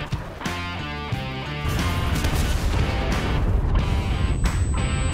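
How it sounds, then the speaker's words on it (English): Artillery strike explosions in the Enlisted video game, a rapid run of booming impacts and crashing blasts rolling into a dense, continuous barrage that grows heavier in the second half, loud and close. "There's that artillery"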